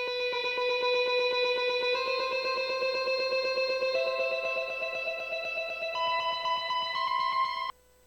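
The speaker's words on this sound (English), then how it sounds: "that sounds like this, just playing that ambient part." An ambient electric guitar part in a minor key, steady picked notes shimmering with effects and reverb, shifting every couple of seconds over a continuous ringing sustain before stopping abruptly near the end.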